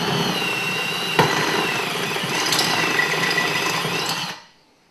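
Power drill boring 6mm holes into a steel car frame, a steady close whine with grinding bite, one sharp knock near the start and rising intensity before it cuts off at the end.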